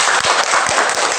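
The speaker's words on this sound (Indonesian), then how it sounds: "Tepuk tangan dulu." A classroom of schoolchildren clapping their hands together, loud, dense and continuous across the moment, close and without talk.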